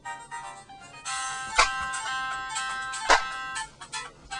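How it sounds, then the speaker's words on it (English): A phone ringtone plays a bright, repeating electronic melody of layered tones, fairly loud and steady, with two sharper accented notes standing out midway. "that's a ringtone, man."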